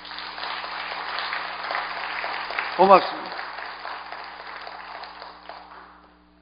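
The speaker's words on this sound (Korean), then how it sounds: "지금 이 시간에 우리 목사님을 위해서 다 한 번 큰 박수를 보내주세요" A church congregation claps for their pastor in a warm, moderate round of applause that rolls on for several seconds and then fades out, while a voice briefly speaks over it.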